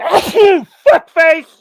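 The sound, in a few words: sneeze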